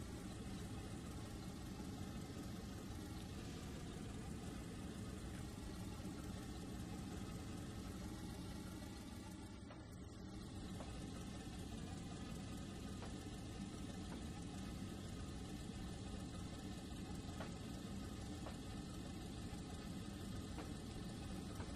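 A locomotive engine in the train game Trainz 2019 hums steadily and low without pause, with faint higher whines over it and a brief dip partway through.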